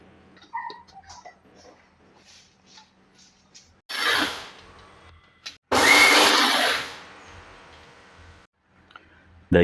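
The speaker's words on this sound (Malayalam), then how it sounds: "ഇനി ഇതെല്ലാം കൂടെ ഒന്ന് നമുക്ക് പൊടിച്ചെടുക്കാം" A mixer grinder coarsely grinds a rice mixture in a home kitchen, two loud whirring bursts of a few seconds each separated by a short pause, with quiet handling noises before and after.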